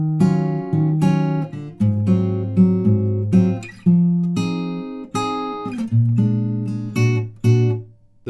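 Fingerpicked acoustic guitar plays the second line of the chorus of a song, with bright plucked notes over a low bass in a gentle swinging pattern, close and solo.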